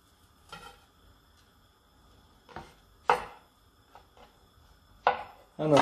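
A knife slicing a chili pepper into thin rounds on a cutting board, giving sparse, sharp cutting taps at uneven intervals with quiet gaps between them.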